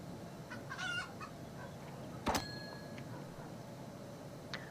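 Chickens and roosters in the PowerWash Simulator video game give a few short clucking calls over a steady background hum, with one sharp brief squawk midway; fairly faint, no talking.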